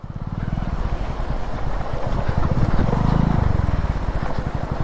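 Hero Splendor motorcycle riding slowly through water over slippery rocks on a mountain route, a steady low engine thrum with churning water and splashing throughout, loud and close, rising slightly in the middle.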